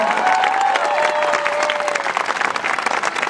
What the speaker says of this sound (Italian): Ma facciamo sentire Porto Recanati questo applauso